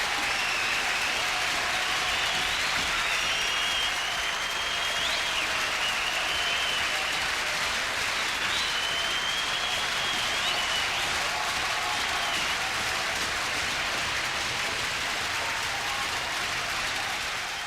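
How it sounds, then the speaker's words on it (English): Sustained, dense applause from a large crowd at a concert after a closing song, with scattered whistles and cheers, steady and loud throughout like a standing ovation. "Sound like a standing ovation."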